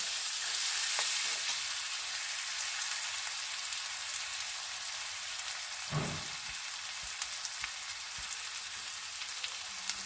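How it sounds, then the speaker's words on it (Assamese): Mushrooms with meat masala and garam masala fry in a pan with a steady, close sizzle throughout, broken by one brief stirring clatter midway. "এইখিনি ধুনীয়াকৈ ভাজি ল'ম।"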